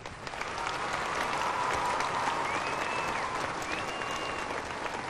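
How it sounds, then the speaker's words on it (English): A large concert audience applauds school music teachers at Disney's World's Largest Concert, a steady, even wash of clapping from a big crowd that holds for several seconds. "Let's give them your heartfelt applause."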